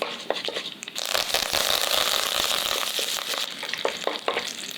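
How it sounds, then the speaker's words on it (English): Continuous sizzling of urad dal frying in hot oil, with crackles and pops and a few clicks from stirring. "As you can see, it's sizzling and my urad dal is turning orange in color."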